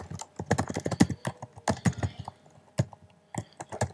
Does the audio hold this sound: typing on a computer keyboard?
yes